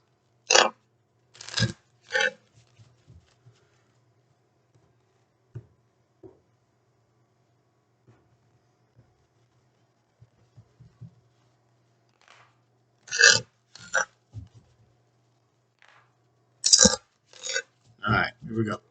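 Tarot cards being pulled and handled: a few sharp, close shuffling snaps and flicks of card stock in short clusters, separated by near silence with a faint background hum.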